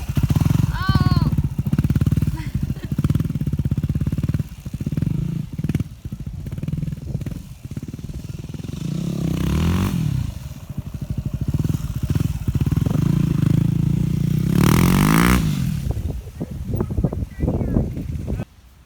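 A mom riding a motorcycle, its engine loud and close for the whole stretch, droning steadily with a few revving surges, while voices talk over it.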